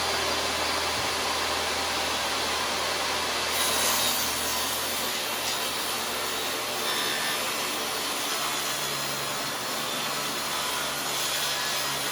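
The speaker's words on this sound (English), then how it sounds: "Then I'm going to go ahead and flip the board around and I'm going to cut it" Hand saw cutting through a board for a bookshelf, a dense, steady rasping of the blade through wood that runs unbroken and close for the whole stretch, with no voices.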